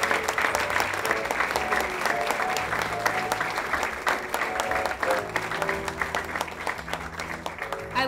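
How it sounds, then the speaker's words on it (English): Sustained audience applause at a 2015–2016 retiree banquet, a dense, steady roar of many hands clapping for the retirees, loud and continuous throughout with faint voices mixed into the crowd. "let us give another big round of applause for all the retirees"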